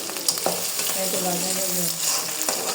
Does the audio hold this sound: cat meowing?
no